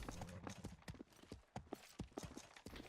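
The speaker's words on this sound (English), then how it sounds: "there's a horse on our apple trees" Hooves of a horse in a video game near apple trees clip-clop in quick uneven steps, close and fairly soft, with faint background murmur.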